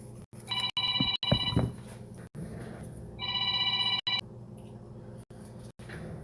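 A telephone rings indoors in two bursts of repeated electronic trilling tones, fairly clear over a quiet room with a few faint handling knocks, no talking.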